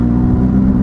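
A Benelli 600 GT motorcycle with an aftermarket exhaust, about 5,200 km on it, runs loud and close in a steady low engine rumble with no break. No talking.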